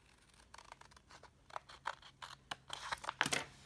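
Scissors cut a paper planner insert in a quiet room, a series of soft snips and paper crinkles that grow louder and faster toward the end; no one speaks.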